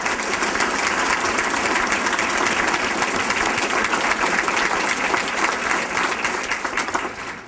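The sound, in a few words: audience applause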